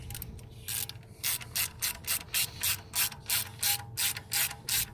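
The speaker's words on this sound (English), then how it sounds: "ratchet" A hand ratchet tightens the camshaft position sensor fastener on a Scion tC: a quick, even series of about a dozen sharp clicking strokes, close and fairly quiet, starting after a short pause.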